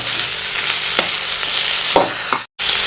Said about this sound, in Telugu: ఒక చెంచా నెయ్యి వేసి నూనె వేసి బాగా ఎర్రగా వేయించేయాలి